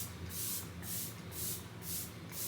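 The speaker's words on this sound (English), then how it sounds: "Again, with the setting spray." Makeup setting spray misted onto a face in a soft-glam routine, a run of soft, airy hissing bursts with a steady rhythm, fairly quiet and close, with no talking.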